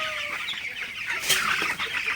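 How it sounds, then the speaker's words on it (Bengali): Broiler chickens in a crowded poultry shed of about eight hundred birds cluck and chirp continuously at close range, with many overlapping calls and a brief flutter. "আমার এখানে আটশো ব্রয়লার মুরগি"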